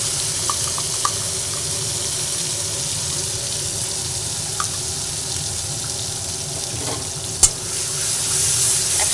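Spice paste and tomato fry in oil, giving a steady, close sizzle under slow stirring, with a few light scrapes and one sharp clink near the end.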